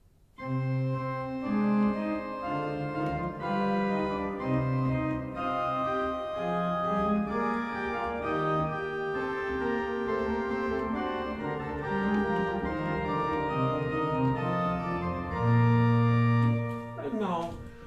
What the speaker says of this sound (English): Now I'm going to play a sequence of 2-5-1 cadences